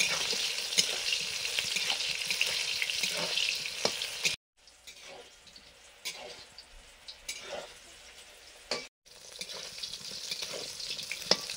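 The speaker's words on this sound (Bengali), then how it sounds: "সবজিগুলো ভেজে নিচ্ছি। কাঁচকলা সব সবজিগুলো অল্প অল্প নুন দিয়ে ভাজছি।" Vegetables and green banana frying with a little salt in a pan, a soft continuous sizzle with light stirring clicks, broken by a couple of brief quiet gaps, heard close and without talk.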